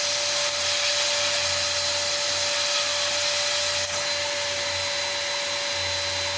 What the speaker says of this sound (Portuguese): Agora nós vamos fazer o exercício aí usando o próprio ciclo do ar do aspirador de pó, puxando contra o fã.